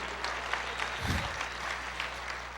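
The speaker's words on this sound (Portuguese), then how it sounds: "Aplauda o Senhor" A church congregation applauds at a Portuguese-language sermon on resurrection, a steady wash of clapping across the whole stretch with a low rumble and a brief louder swell partway through.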